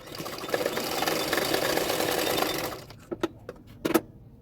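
A sewing machine stitches along the edge of a blouse cup, running in a fast continuous whir for nearly three seconds, then stopping with a few isolated clicks and taps, close and clear.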